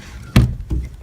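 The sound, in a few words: chicken pen door being operated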